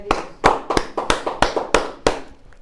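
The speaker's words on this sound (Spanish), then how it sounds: "Le damos un aplauso al Dios de la gloria." A church congregation claps during a service: about eight sharp, fairly loud claps in a loose steady rhythm, spaced roughly a third of a second apart, with no voices over them.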